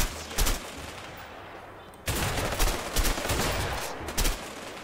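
Bursts of gunfire in the co-op video game A Way Out, with single shots and rapid volleys loud and close over a steady background, tightening into a denser stretch after a brief lull.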